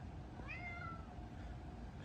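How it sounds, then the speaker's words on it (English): A single meow from a big orange cat rising and falling, fairly faint over a steady low background hum, no talking. "a big orange kitty cat"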